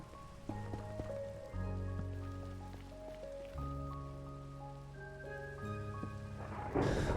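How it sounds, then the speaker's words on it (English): Steady rainfall with faint distant thunder sits beneath soft game music, the downpour swelling briefly near the end. "Big stormy out there."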